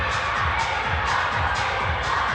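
A Montenegrin crowd at the Teqball Tour finals in Podgorica cheers and shouts in a dense, continuous roar, with excited whoops rising repeatedly from the mass of voices.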